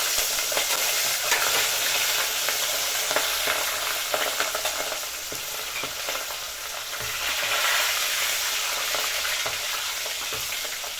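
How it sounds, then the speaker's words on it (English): Sausages deep frying in hot oil for street-food smoocha, a loud continuous close bubbling sizzle that keeps going without a break and with no voices. "So the oil is ready. We fry our sausages."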